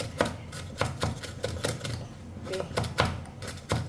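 Cabbage is chopped on a board in a string of sharp, evenly spaced knocks, close and fairly loud, with faint background noise between strokes.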